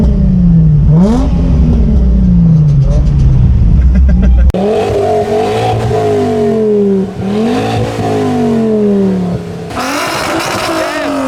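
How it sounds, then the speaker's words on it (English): Several Lamborghini engines, including an Aventador S, SV and SVJ, rev loudly nearby in an enclosed convoy area, rising and falling in repeated bursts, with a person talking over the roar. "Everyone's revving."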